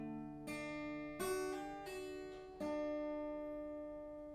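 A guitar plays a short tab bar with a hammer-on and pull-off, clean plucked notes ringing out one after another with slurred note changes, alone and fairly quiet.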